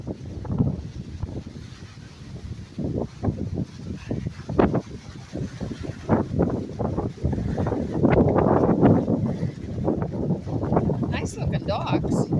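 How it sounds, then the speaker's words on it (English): Strong wind at Remi Lake in Rene Brunelle Provincial Park buffets the microphone in loud, irregular gusts and roaring bursts, with someone talking intermittently underneath. "It is really windy."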